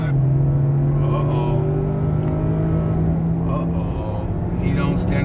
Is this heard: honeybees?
no